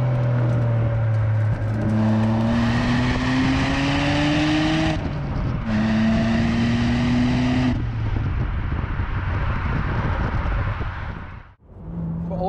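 A BMW E86 Z4 Coupe engine accelerating hard through the gears, loud rising revs with two clear upshift breaks, then the engine note falls away to a lull near the end.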